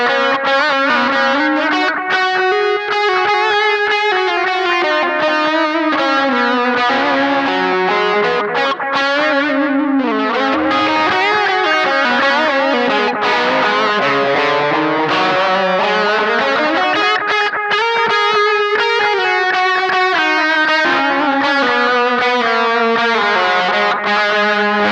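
A Gretsch Electromatic G5230T Jet electric guitar plays a sustained, distorted melodic lead line with rich harmonics and gliding bends, loud and continuous for the whole stretch, no voices.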